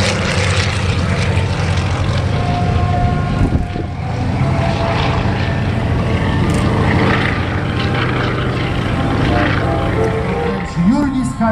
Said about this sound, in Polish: Samolot rolniczy I-126